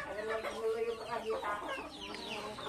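Chickens cluck close by on a farm, several overlapping, chattering calls in quick succession, fairly loud, with a person talking faintly beneath them.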